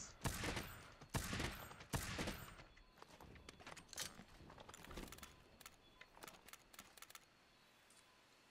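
Gunfire in Monster Hunter 4, a burst of loud close shots at the start, then a scatter of lighter, quicker reports that thin out and fade to near quiet.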